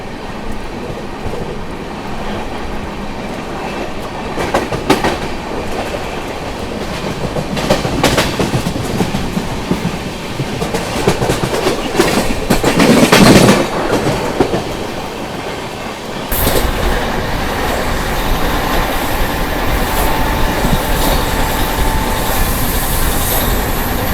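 The CR Rajdhani Express, train 22222, races past near Kasara station in the ghat section with a continuous loud roar and rapid clickety-clack of wheels, swelling toward the middle before a sharp shift to a steady rushing rumble.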